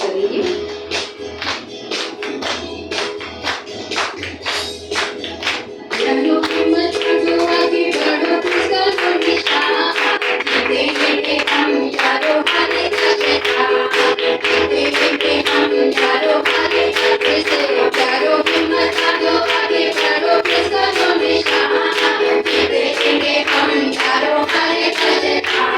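Congregation clapping hands in rhythm during a Sunday worship service in New Delhi, steady sharp claps running throughout over music that swells and grows louder partway through.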